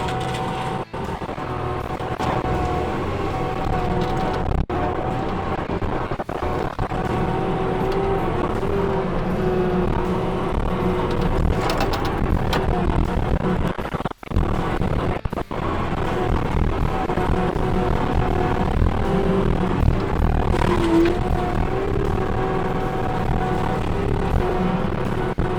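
A skid steer with a disc mulcher attachment cuts and feeds material, giving a steady, loud engine drone with grinding and chopping roar throughout, briefly dipping once midway.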